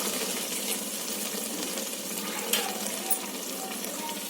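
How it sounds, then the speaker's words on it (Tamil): Tamarind water is poured into a pan of frying garlic and ground masala for pundu puli kuzhambu, giving a steady, close sizzle and bubbling hiss with a few small splashes and clinks. "இப்போ புளித்த கரைசல் ஊற்றிக்கோங்க."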